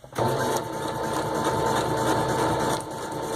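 A sewing machine runs in a steady close motorised whir while stitching paper hearts cut from vintage book pages into a garland, briefly easing off near the end; no talking.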